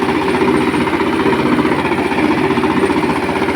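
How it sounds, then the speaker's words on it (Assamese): A tractor ploughing a field, its engine a loud, steady, close chugging drone with a rapid rhythmic knock and no talk. "ট্ৰেক্টৰ হাল বাই আছোঁ।"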